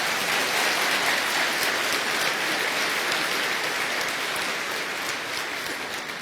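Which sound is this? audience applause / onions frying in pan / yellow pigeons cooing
audience applause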